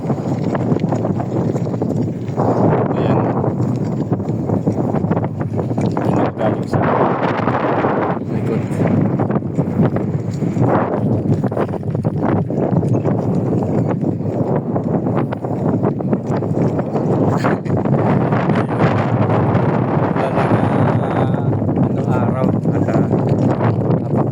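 Strong wind buffets the microphone in heavy, rumbling gusts, a loud and continuous roar with surging bursts throughout.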